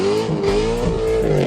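Corvette Z06 with a 7-liter 427 V8 of 505 horsepower revving hard, a loud, close, continuous howling engine note that climbs and shifts pitch throughout with no talking.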